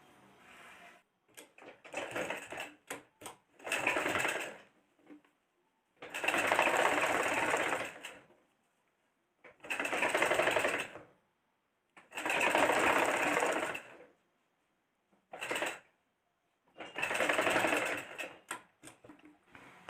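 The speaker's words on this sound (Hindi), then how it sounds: "ठीक तो इस तरह से इसमें सिलाई लगाना है।" A sewing machine stitches the hem of a small pyjama in about seven loud whirring runs of varying length, with short pauses and soft handling noises between them.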